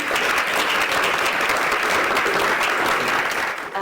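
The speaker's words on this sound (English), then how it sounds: "we can just give an applause for" Academic conference attendees give a warm round of applause, dense steady clapping filling the room for several seconds before fading out.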